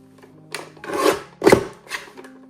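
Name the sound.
paper trimmer cutting paper edge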